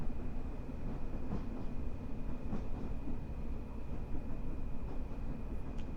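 A Class 460 electric train in Train Sim Classic runs along the rails near East Croydon, giving a steady rumbling roll with faint rhythmic clicks, continuous and close with no talk.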